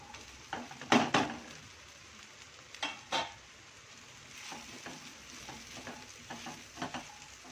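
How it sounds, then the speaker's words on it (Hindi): Sabudana (tapioca pearls) go into a frying pan and get stirred, soft sizzling broken by a few scraping stirs and clinks, fairly quiet and close. "अब मैं साबूदाना ऐड करूँगी।"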